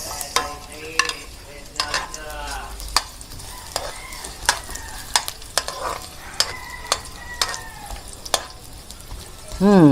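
Ginger and onion frying in a pan for pork tinola with coconut milk and turmeric, with a steady sizzle and repeated sharp clicks and scrapes as a utensil stirs against the pan. Brief talk is heard near the end.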